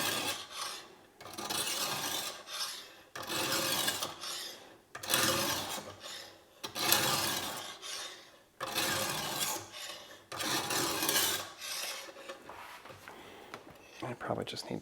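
Knife blade drawn through a Wasabi Ruixin Pro sharpener mounted on a workbench, with repeated rasping strokes in a regular rhythm of about one per second, close and fairly loud.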